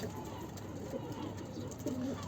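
A male pigeon coos softly in a couple of low, rounded phrases, close by against a steady background hiss.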